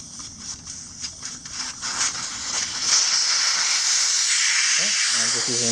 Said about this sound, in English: we're going to let the air out of the tire